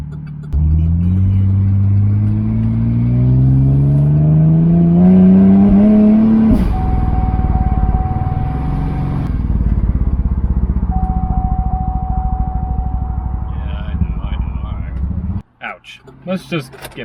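A supercharged V6 Cadillac engine revs up in a rising whine, then drops and sputters unevenly as it cuts out with the check engine light flashing, heard from inside the vehicle.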